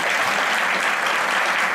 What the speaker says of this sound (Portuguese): uma salva de palmas para as nossas duas debatedoras